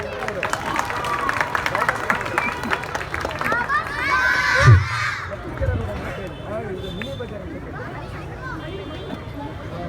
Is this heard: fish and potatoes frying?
no